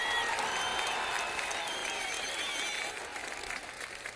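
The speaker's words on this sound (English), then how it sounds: "Round of applause." Sustained applause from an audience, steady clapping throughout at moderate level, easing slightly toward the end.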